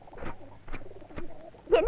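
Pigeons coo softly in low, repeated throaty calls spaced about half a second apart, ending in a brief louder flutter of sound.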